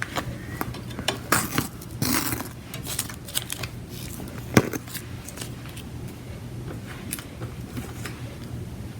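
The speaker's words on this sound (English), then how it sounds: "now I'm going to remove the tape, and you can see it just tears away really, really easily here" Masking tape being torn away from fabric on an embroidery hoop for an in-the-hoop face mask, giving a few short, close ripping and scraping bursts in an otherwise quiet room.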